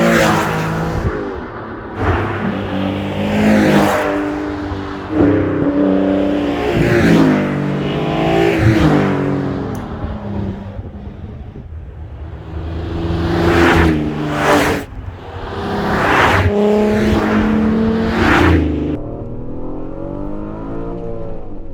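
An Alfa Romeo 156 GTA with the Busso V6 engine revs hard in repeated climbs, loud and close, with gear changes between the rising pulls and short lifts off the throttle.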